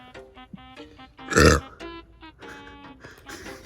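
A loud, close, guttural burp erupts midway between bursts of voices.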